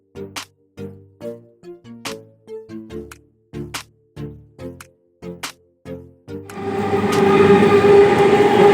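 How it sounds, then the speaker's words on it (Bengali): A string of regular rhythmic clacks, then a loud roaring rumble with squealing tones swells in as a train pulls in close at a station, en route to Tribeni during the Bengal Kumbh Mela. "আর কিছুক্ষণের মধ্যে ট্রেন চলে আসবে"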